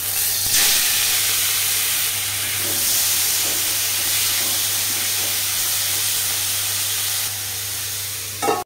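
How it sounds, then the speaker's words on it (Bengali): Prawns coated in salt and turmeric fry in mustard oil in a wok, giving a loud, continuous, close sizzle and hiss with a few stirring sounds and no talk. "চিংড়ি মাছগুলো দেখো আমার ভাজা ভাজা হয়ে গেছে"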